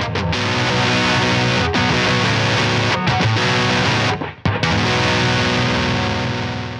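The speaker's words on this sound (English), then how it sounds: "For distortion parts, I used an OCD." Electric guitar played through an OCD distortion pedal, thick sustained overdriven chords ringing loud and continuous, with a few brief breaks between strums and no voices.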